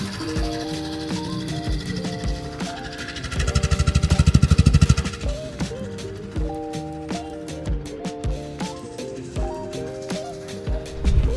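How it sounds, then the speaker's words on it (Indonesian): A Suzuki Access 125 scooter engine idles smoothly and steadily at close range, briefly revving louder in the middle before settling back, with scattered clicks and taps over it. "Kalian bisa dengerin suara mesinnya tuh halus banget."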